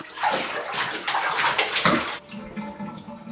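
Running water splashes and sloshes loudly over an English Springer Spaniel in a bathtub for about two seconds, then quietens to softer dripping and movement in the tub.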